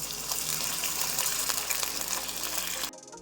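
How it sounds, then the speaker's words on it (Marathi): A glass of water pours steadily into a pan while masala Maggi cooks, making a continuous close gush that stops abruptly near the end. "तर आता मी याच्यात 1 गिलास पाणी टाकतो।"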